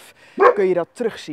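A German shorthaired pointer gives a few short, close barks and yips, overlapping with a person speaking during a training session.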